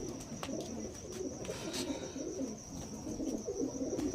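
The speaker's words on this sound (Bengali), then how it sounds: "তো টোটাল হচ্ছে 63খানা পায়রা।" Pigeons from Andhra Pradesh, bought for keeping at home, coo continuously in low, throaty rolling calls, close and overlapping, over a constant background hum with a few faint chirps and no speech.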